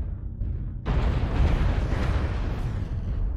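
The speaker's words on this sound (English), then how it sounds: "I also heard explosions behind me." Explosions rumble in Mechwarrior Online, a giant-robot mech combat game: a quieter low rumble gives way to a sudden loud, sustained blast of heavy broadband roar that continues without letup to the end.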